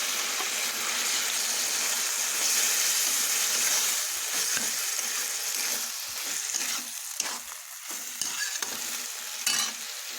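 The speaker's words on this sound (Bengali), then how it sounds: "আমি আদা লঙ্কা যে বেটে রেখেছিলাম সেগুলো দিয়ে দিব। বাটি দিয়ে জল দিয়ে দিব।" Loud, steady frying hiss and sizzle as ground ginger and green chili paste and water go into a hot pan of vegetarian spinach stem chorchori, with scattered stirring scrapes and clinks toward the end, no talk.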